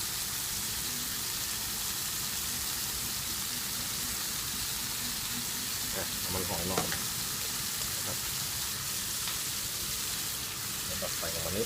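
Scallops stir-fry in a pan with fish sauce and oyster sauce, giving a steady, hissing sizzle that runs without a break, with occasional clinks of stirring and someone talking over it.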